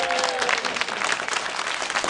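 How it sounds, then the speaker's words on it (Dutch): Studio audience at a Frisian music quiz show applauding, dense steady clapping that fills the whole stretch at an even level. "Dus een applaus"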